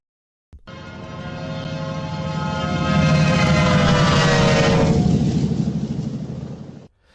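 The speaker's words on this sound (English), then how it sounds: "the sound of an approaching train's horn" A loud, sustained train horn blares as it approaches, its tone dropping in pitch partway through before it fades and cuts off.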